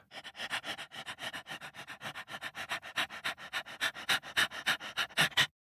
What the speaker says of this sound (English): A dingo, it is a dog.